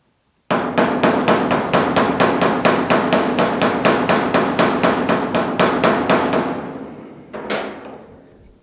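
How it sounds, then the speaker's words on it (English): A steady run of about twenty-five quick, evenly spaced hammer blows, probably from a rubber mallet, works a bump out of a GTO restomod's trunk lid. The loud, close thuds stop, and then a single final knock follows. "let me hammer on that a little bit"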